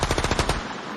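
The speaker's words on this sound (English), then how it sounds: "I've been waiting to try out this gunshot. It's a different effect." Rapid burst of gunfire sound effect, about eight sharp shots in quick succession over half a second, loud and close, then a fading tail.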